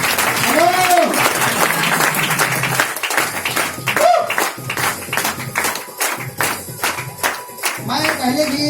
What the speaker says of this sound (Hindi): मैं एक बार शानदार क्लिपिंग चाहूंगा दोस्तों, ताली चाहूंगा